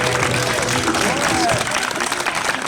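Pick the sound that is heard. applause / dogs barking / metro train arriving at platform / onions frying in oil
applause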